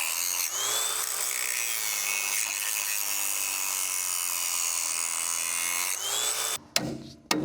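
A power saw cuts through old pipe fittings with a loud, sustained grinding whine whose pitch dips and recovers under load, then breaks into short bursts and stops near the end.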